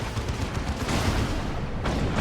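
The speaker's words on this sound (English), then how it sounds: "Auto Cannon doing its thing" Autocannon firing in the Dawn of War 2: Retribution strategy game, a dense rolling barrage of shots and booms in a loud continuous battle din.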